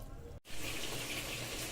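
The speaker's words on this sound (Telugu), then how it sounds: "కూల్ వాటర్ కలుపుకొని పెట్టుకోవాలి." Cool water pours into a bowl of tamarind pods as a soft, close gush. A brief break is followed by a steady stream that splashes and fills without any voice over it.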